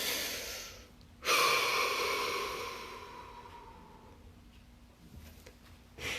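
A deep, audible breath taken during a guided relaxation exercise, a sharp inhale followed by a long, slowly fading exhale, close and fairly soft, with no talking.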